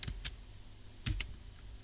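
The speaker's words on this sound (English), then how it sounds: "so you see now I'm using the arrow keys, but it doesn't work" Arrow keys tapped on a computer keyboard while steering a snake game, a few light, quick clicks close by in a quiet room, with no talking.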